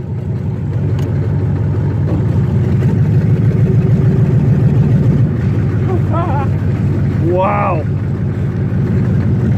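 Loud, steady diesel rumble of a 6.2L engine swapped into a 1987 Monte Carlo, idling close by with an even low drone throughout, while someone talks and exclaims over it.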